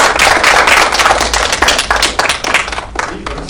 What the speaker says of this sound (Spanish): un aplauso también, por favor